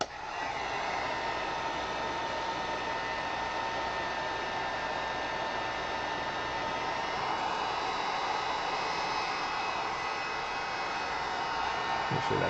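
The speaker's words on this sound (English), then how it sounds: "Let's heat gun this just a little more." A heat gun blows a steady, loud broadband hiss of hot air onto an oil painting, continuous and unbroken with no talking.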